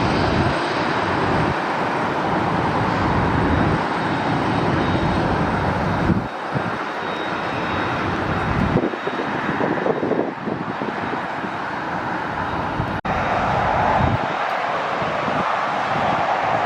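A jet airliner at LAX roars loudly and steadily throughout, its broadband engine rumble with wind buffeting, no talk over it.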